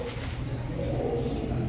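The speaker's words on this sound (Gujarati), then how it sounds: "જો કબૂતર બેઠેલું છે." A pigeon coos softly inside an 800-year-old stone stepwell, a low, steady murmur that sounds close and slightly enclosed, with a faint high tone at times and no clear speech.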